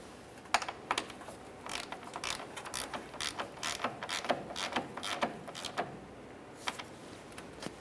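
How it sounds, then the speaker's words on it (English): A hand ratchet snugging a radiator mounting bolt on a 2004–2006 Scion xB: quick, faint clicking bursts repeating irregularly over several seconds, close and alone. "Let's start in that mounting bolt by hand and snug it up."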